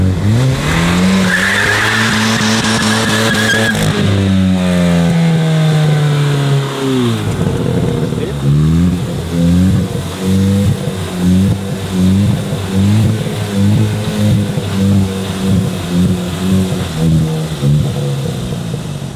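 A Hyundai i20N engine revs hard while the front tires spin and squeal continuously, the pitch climbing and dropping in surges, close and sustained throughout.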